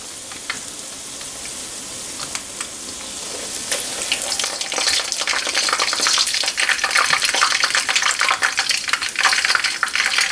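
Battered chicken pieces fry in hot oil in a skillet with a steady, close sizzle that starts moderate and swells into dense, loud crackling, and no voices over it.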